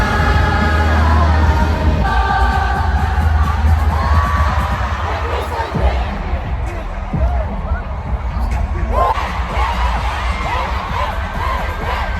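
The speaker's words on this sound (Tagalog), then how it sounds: "The girls at my back got Vice Ganda's attention for shouting her name in unison." Girls in a packed Philippine Arena crowd at a concert chant Vice Ganda's name in unison, a loud, steady roar of young voices rising over the arena's karaoke music and general crowd noise.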